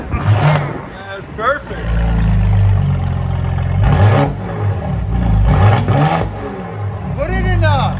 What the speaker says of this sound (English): Now you can hear the turbo.